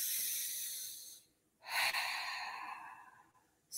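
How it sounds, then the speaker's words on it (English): A slow, deep inhale draws in breath for about a second at moderate loudness, a short pause follows, and then a longer breath sighs out, with no talking over it. "Let's all take a deep breath in."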